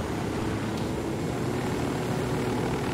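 A helicopter in the shooter Ghost Recon Wildlands, during an air race, gives a steady loud rotor and engine roar that runs unbroken and alone throughout.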